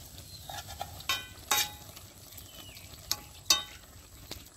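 Shrimp drops into a pan for a taro-stolon curry and gives a soft, quiet sizzle, with a few sharp scraping clinks from a spoon against the pan.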